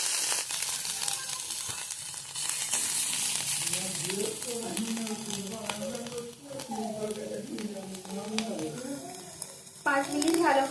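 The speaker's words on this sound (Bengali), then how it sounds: "লঙ্কাটা একটু ভালো করে ভেজে নিচ্ছি" Dried red chilli frying in mustard oil gives a steady hiss and crackle, close and continuous, while someone talks over it for several seconds, and a louder burst of sizzle comes near the end.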